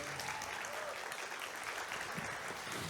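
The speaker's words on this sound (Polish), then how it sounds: "Wielkie brawa!" A conference audience at a European entrepreneurs' congress applauds after a performance. The clapping is dense and continuous and holds at an even level for the full three seconds.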